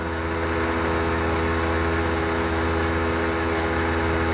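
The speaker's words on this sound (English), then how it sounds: "Compressor cuts on at 80 psi, cuts off at around 110." A train horn air compressor mounted on a Jeep Wrangler runs steadily and loudly, a constant droning motor hum with a strong low buzz and a broad hiss, with no talk over it.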